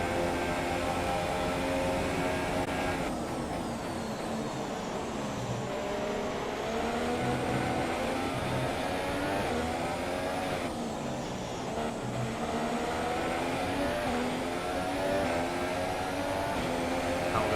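F1 car engine in the video game F1 2017 at Abu Dhabi, a steady high whine climbing and dipping through gear changes, continuous and close with no voices.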